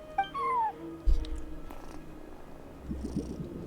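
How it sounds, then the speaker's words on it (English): A cat at a front desk in the video game Genshin Impact lets out a clear, close, rising-then-falling meow, followed by softer purring and a few faint later sounds, with no talking. "No one except for a cat watching over the front desk."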